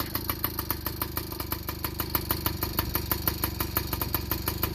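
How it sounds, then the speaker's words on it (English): A rebuilt 1983 Yamaha PW50 with a big bore engine idles steadily once warmed up, its small two-stroke putter running in an even, rapid rhythm, close and moderately loud with no one talking. "seems to idle right now, it's warmed up"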